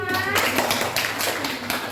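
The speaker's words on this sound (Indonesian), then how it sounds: "Tepuk tangan untuk Pak Mas" A group of children in a classroom claps together in a quick burst of scattered, overlapping claps for their teacher, with a voice briefly heard at the start.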